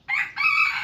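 A pet rooster crows once, loud and close, in a single drawn-out call that breaks briefly before a longer sustained tail.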